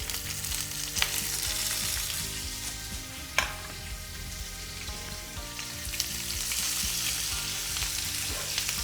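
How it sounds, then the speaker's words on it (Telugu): Whole spices and onions sizzle and fry steadily in a pot, a continuous close crackle with a few sharp stirring knocks and no talk. "కొంచెం ఈ మసాలాలన్నీ మంచిగా వేగాలి ఉల్లిపాయలు"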